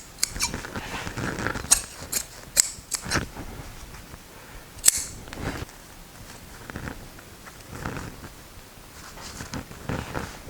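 Scissors snipping through excess upholstery fabric on an armchair being reupholstered, a series of short crisp cuts and rustles, close and fairly loud, with no talking.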